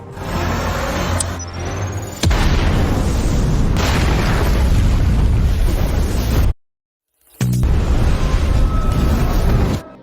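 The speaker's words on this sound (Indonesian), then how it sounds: "meledakkan seluruh bom yang sudah ditanam di berbagai sudut" Heavy explosions boom and roar in long sustained blasts, with a rushing, crackling rumble, briefly cut by a moment of silence before the blasting resumes.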